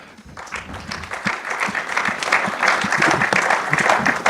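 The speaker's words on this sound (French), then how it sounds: "que je vous invite à applaudir" A conference audience applauds two panel speakers, the clapping starting thin and swelling steadily into a full, sustained ovation over about four seconds.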